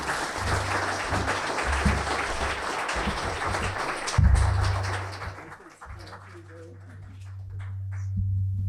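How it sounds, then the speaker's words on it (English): Broad, sustained applause from a literary festival audience for several seconds, swelling and then fading out, with a faint hum underneath. "let's give a warm round of applause for Madeline"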